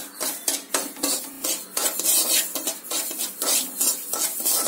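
Semolina being stirred and dry-fried in a hot kadai over a high flame, a spoon scraping and clinking against the metal pan in quick, uneven strokes with a faint sizzle, close and steady throughout.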